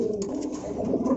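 Caged pigeons at a pigeon seller in Dhaka give a soft, low, continuous cooing. The sound is steady and close, with no speech over it.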